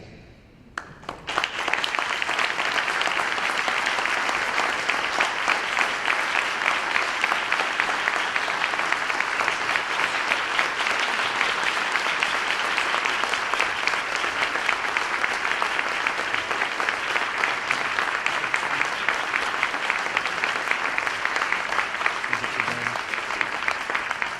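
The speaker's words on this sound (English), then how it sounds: "Let's give him another round of applause for Roland for his charge" Sustained applause from a large audience at the close of the BMEC 2017 gathering, a dense, steady wall of clapping that starts abruptly and continues strongly for the whole stretch without pause.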